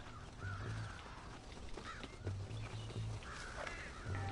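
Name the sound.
crows cawing in Red Dead Redemption video game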